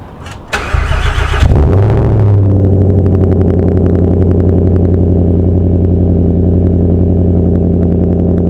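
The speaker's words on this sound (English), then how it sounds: "So now it's time for a cold start on a straight pipe S80 V8." A straight-piped Volvo S80 V8 cold-starts with a starter whir and a loud, raspy bark, then settles into a fast, high idle that rumbles steadily and stays very close and loud.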